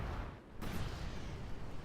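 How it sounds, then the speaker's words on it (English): A tripwire flare goes off in a World War II real-time strategy game, a muffled low boom and crackle heard amid steady battle rumble. "Another tripwire flare goes down to explosion."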